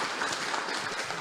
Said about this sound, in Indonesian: kita beri tepuk tangan dulu untuk teman kita